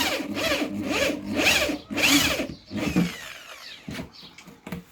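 A power drill bores a hole through the bottom of an upside-down tomato planter, giving several loud grinding bursts in a row before it trails off into scattered knocks and handling noises.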